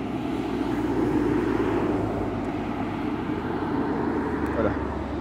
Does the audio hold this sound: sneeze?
no